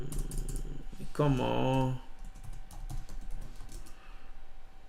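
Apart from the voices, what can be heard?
typing on a computer keyboard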